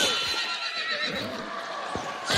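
Horse whinny from a video game hunting scene, a close, loud neigh running across the short moment with faint game ambience and a brief thump near the end.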